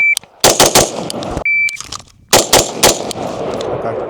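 Loud, close gunshots on a shooting range at a target, several sharp reports in two quick groups, each set started by a shot-timer beep, with brief indoor echo between shots.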